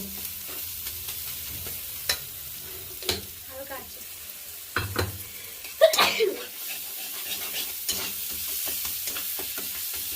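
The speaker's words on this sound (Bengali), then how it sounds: "এটাকে ভালো করে আমরা দশ মিনিট কষিয়ে নেব" Spice masala for an egg tadka is sautéed and stirred in a pan, a low sizzle broken by intermittent scraping and clattering strokes of a spoon, close by, with a few faint voice sounds.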